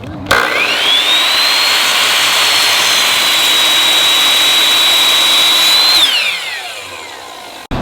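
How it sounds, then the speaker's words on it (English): A power saw cutting 2x4 lumber, spinning up to a loud sustained high whine for about six seconds as it bites through the wood, then winding down. "So right now we're cutting the 2x4x10s down to make them perfectly squared with each other"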